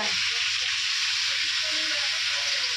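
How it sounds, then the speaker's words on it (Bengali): A vegetable curry cooks in a pan, giving a steady, continuous sizzle and frying hiss throughout, close and even, with no talk. "মা রান্না করছে এখানে, তো এখানে মা রান্না করছে"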